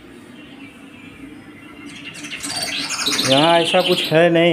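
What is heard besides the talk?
recorded bird chirping played as jungle ambience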